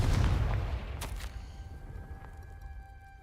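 A Confringo blasting-curse explosion in the Hogwarts Legacy video game, a heavy low boom that rumbles and fades, with a couple of sharp crackling bursts after it and a faint ringing tail.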